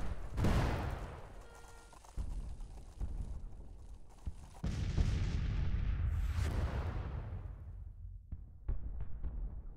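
Cannon artillery fire in the Civil War strategy game Grand Tactician, several heavy booming blasts with rumbling decay, spaced irregularly across the clip, with quieter crackling gaps between, no speech.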